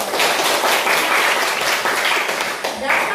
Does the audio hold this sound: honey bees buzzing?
no